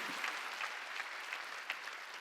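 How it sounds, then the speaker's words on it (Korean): Applause rises from a congregation at a Sunday worship service, steady clapping of many hands heard alone, with a few sharper claps standing out. "박수"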